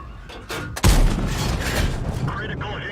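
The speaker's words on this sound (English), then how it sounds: "We're firing into their rear." A tank cannon on an M4A3E2 Sherman Jumbo fires in a combat video game, a loud booming blast followed by a long rumbling decay, with battle noise and some talk underneath.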